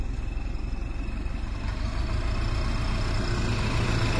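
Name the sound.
car engine idling after cold start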